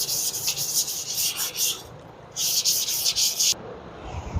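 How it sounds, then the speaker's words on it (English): Steady rasping strokes of wet sanding paint with 800-grit paper on a 1947 Ford COE truck, rubbing back and forth in a few bursts with brief pauses, close and fairly quiet. "Just sanding this with 800 and wet"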